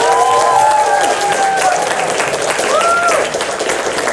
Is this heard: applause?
yes